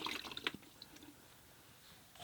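Water being changed in a painter's rinse bucket during a watercolor session, a brief burst of splashing and dripping that fades into soft trickles, close and quiet.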